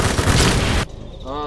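Bursts of rapid gunfire from a Honey Badger rifle in a video game, a dense loud rattle for under a second that then drops away into a quieter tail.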